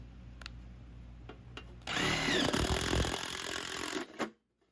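A power drill whirs loudly for about two seconds, grinding through a K-style gutter, after some quiet clicking and handling noises, then stops abruptly.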